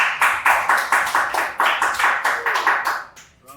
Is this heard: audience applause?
yes